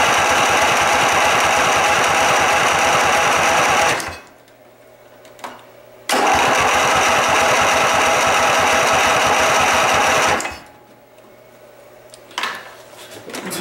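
A 12.5 hp Vanguard engine cranks over in two long, loud bursts of rapid, rhythmic chugging, each lasting about four seconds and cut off abruptly, with quiet gaps and a soft clunk between attempts and no sign of it catching.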